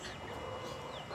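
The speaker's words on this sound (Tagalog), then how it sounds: "May manok." Chickens clucking close by in a farmyard while eggs are fed to them, a steady busy layer of fowl calls with no talk over it.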